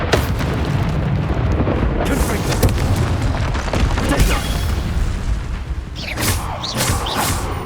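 A Bombarda explosion spell in Hogwarts Legacy, fought against a troll, comes as a loud, continuous rumbling blast with heavy debris and bursts throughout, swelling into sharper cracks near the end.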